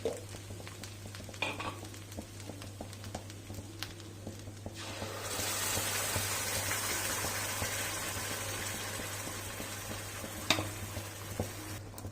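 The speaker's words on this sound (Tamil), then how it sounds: "இந்த பட்டரும் இந்த நம்ம அரைச்சி வச்ச பேஸ்ட்டும் ஒன்று நல்லா கலந்துட்டு" Butter and ground paste for paneer butter masala being stirred in a pan, a steady sizzle that swells louder halfway through, with occasional soft scrapes and clinks of the spoon.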